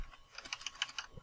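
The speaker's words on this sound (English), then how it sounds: "We're just going to type tut block" A quick burst of soft keystrokes on a computer keyboard, several light clicks in a fast uneven run, close and quiet with no talk.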